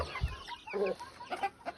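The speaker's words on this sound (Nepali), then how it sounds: "कुखुराले मलाई चारो माग्यो।" A few soft chicken clucks, short and irregular, close by with quiet gaps between them, as chickens beg for feed in the morning.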